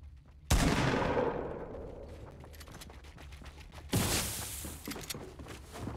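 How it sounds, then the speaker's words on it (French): Gunfire in the Fortnite battle royale game: two loud, close shots or bursts, one at the start and another midway, each trailing off into a rumbling echo with scattered further shots. "Ça tire de tous les côtés"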